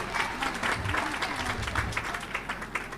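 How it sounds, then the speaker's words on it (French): People at the inauguration of a technical high school in Petit-Trou-de-Nippes applaud the school director with a close, steady wash of clapping from a gathered crowd, faint voices mixed underneath. "On applaudit encore Samil Pierre, le directeur"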